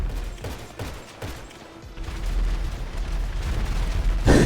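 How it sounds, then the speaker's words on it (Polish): Explosive ammunition goes off in GTA Online as a rolling series of booms and rumbles, close and loud, building toward a heavy blast at the end. "Ktoś nawala chyba jakąś amunicją wybuchową, czy co?"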